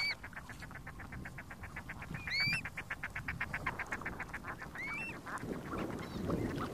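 Ducks on the cold waters of high-altitude Lake Chungará in the Altiplano, with a steady run of rapid repeated calls and a few higher whistled notes over a noisy outdoor wash.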